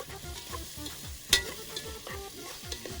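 Mustard seeds and cumin fry for a dal tadka tempering, making a low, crackling sizzle with scattered pops and one sharp clatter.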